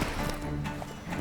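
Hooves of Roach, the horse from The Witcher 3, clip-clop as she wades into water, a brief near sloshing and stepping under steady game ambience.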